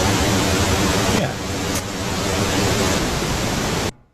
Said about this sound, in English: we're just going to use pink noise and a little bit of impulse to do this.